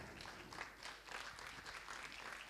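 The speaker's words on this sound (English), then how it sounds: "Let's give them a big round of applause." Audience applause welcoming a fintech investor and a Fintech OS founder and CEO onto a conference stage, a faint, steady wash of clapping from a crowd that holds evenly and sounds distant.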